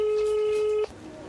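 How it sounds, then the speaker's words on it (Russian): A telephone ringback tone sounds while a number is being called, a single steady tone that holds and then cuts off, followed by quieter background. "Звоним по указанному в сообщении номеру."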